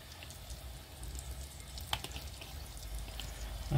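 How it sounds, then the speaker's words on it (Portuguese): Soft, steady sizzling of pork fat frying in a small pan, started cold, quiet and close, with a brief louder clatter right at the end. "A gente tá fritando isso aqui."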